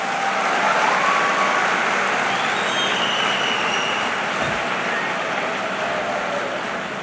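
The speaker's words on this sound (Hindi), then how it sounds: "देखो ताली बजाई है तुमने" Large crowd clapping in steady dense applause at a talk on education policy, loud and continuous with a slight fade toward the end.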